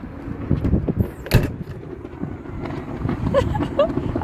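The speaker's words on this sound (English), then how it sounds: "Now when we shut the door," An RV door at a Camping World lot swings shut with one sharp thump, set against outdoor wind rumble and faint background noise.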